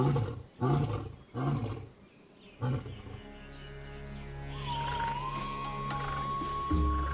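An Asiatic lion in India's Gir forest roars in several deep, loud, pulsing bursts, followed by a low steady rumble with a brighter tonal sound rising over the end.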